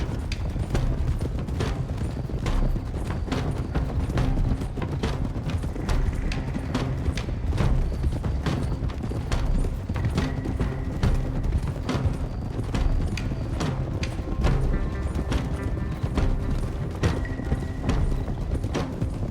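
Horses' hooves clip-clop in a quick, steady rhythm as riders move along in Red Dead Redemption 2, a continuous clatter of many hoofbeats with no talk over it.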